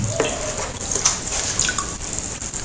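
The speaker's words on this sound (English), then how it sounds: "See, it's still dripping." Water from a bucket of excess catfish feed drips and trickles steadily, close by, with small splashes over a constant watery hiss.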